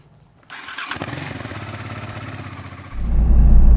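A motorcycle engine starts up and runs loud and close, its rough idle rising into a deeper, heavier roar as the machine revs or pulls in near the camp.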